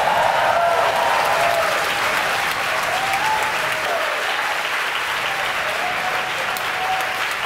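A crowd at SpaceX headquarters cheers and applauds after stage separation on a Starlink launch, a loud sustained roar of clapping and whoops that holds steady throughout.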